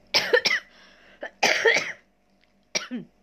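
A person coughs in several rough bursts, a pair, then a single, a longer hacking fit, and one more after a pause.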